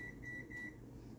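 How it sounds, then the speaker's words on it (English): A microwave oven running in a home kitchen hums steadily at a low level. A few short electronic beeps come at the start, and no one speaks. "Put it in the microwave."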